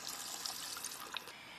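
Vegetable stock pouring into a ramen base in a pot, a soft, steady liquid trickle running for a couple of seconds at close range with no talk over it.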